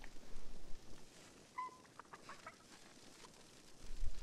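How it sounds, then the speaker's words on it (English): A chicken clucking in Fortnite, a few short, sharp clucks in quick succession, heard faintly against quiet background noise. "I hear the chicken being terrorized"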